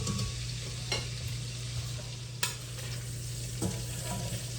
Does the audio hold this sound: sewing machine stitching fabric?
no